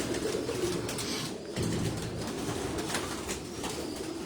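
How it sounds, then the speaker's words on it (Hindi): Pigeons, including Cherry-type birds, coo steadily on a rooftop loft, a dense low murmur of calls close by with no talking. "ये भी चेरी कबूतरों में है।"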